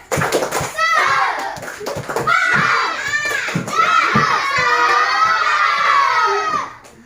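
A class of children chants and shouts in unison during a rhythmic spirit clap, their voices loud and close over sharp hand claps.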